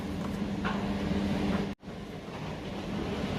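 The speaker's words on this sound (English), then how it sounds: "so the washing machine and the tumble dryer is on." A washing machine and tumble dryer run together in a steady, even drone with a faint hum, cutting out abruptly for a split second midway before resuming.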